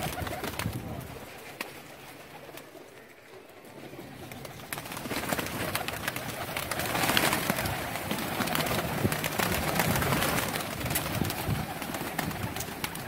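Pigeons kept for sale, a flock of flying pigeons, coo softly and continuously nearby, with faint bird calls and rustling in the background throughout.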